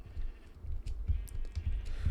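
Sheep in a Minecraft survival world bleat repeatedly in short, fairly close calls over a soft steady background hum, with a few faint clicks mixed in.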